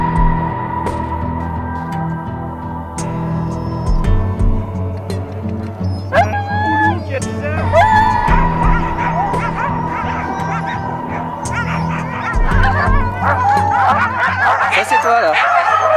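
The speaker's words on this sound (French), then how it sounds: "C'était avec Eric au chenil du Chien-Loup pour faire 1 heure de chien de traîneau au coucher de soleil avec une lumière, mais juste incroyable." Sled dogs at a wolfdog kennel in Québec bark and yip excitedly, close and continuous, with rising whining yelps mixed in while people talk over them.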